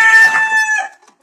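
A pet chicken on a farm lets out a single loud, close, tonal crowing call that trails off into silence.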